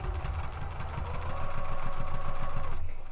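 Sewing machine running steadily to back-stitch across the top of a fabric planner cover's body panel near a pocket, a fast regular needle rhythm that stops abruptly near the end.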